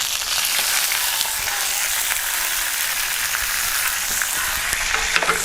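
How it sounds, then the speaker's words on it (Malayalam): Mustard seeds and dried red chilies sizzle and crackle steadily in hot oil for tempering, a loud, continuous frying hiss with small pops throughout and no voices. "താളിക്കാൻ പോകുന്നത് കടു. അത് കഴിഞ്ഞ് വറ്റൽ മുളക്,"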